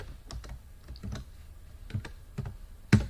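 Keys tapped on a computer keyboard during a school computer class, a few scattered clicks with short pauses and one louder final keystroke, close and fairly quiet with no talking.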